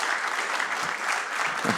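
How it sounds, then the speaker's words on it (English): Live studio audience applause at a podcast recording, a steady dense wash of clapping that holds for about two seconds without talk. "That was a shameless attempt to get some applause"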